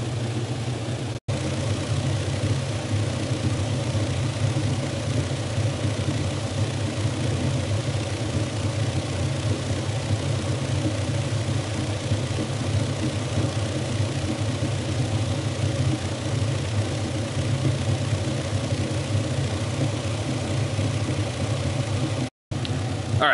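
A Diamond billiard ball polisher and cleaner runs steadily with a continuous low motor hum and rumble, alone and unbroken apart from a couple of brief dropouts.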